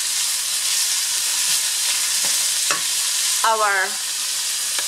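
Ingredients for Puerto Rican stewed chicken sautéing in a pan, a loud steady sizzling hiss throughout, with a few short utensil scrapes and a brief voice near the end.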